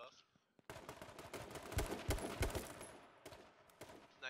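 Rapid automatic gunfire in the battle-royale game H1Z1, with sustained bursts and loud dense volleys that swell in the middle and taper off, while a voice talks over the shooting.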